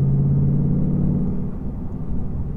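A Ford Mustang GT on the road gives a steady low engine rumble from inside the cabin, easing slightly midway and holding at a moderate level with no speech.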